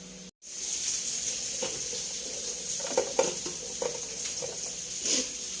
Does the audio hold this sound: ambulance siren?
no